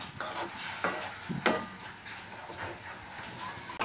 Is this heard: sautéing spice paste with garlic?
yes